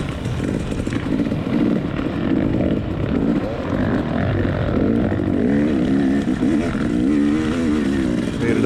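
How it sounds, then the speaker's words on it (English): Several dirt bikes race along a wooded motocross trail at a National Motocross Association round, engines droning loud and steady with rising and falling revs throughout, close by as riders climb toward a hill. "Still hear a bunch of bikes behind me"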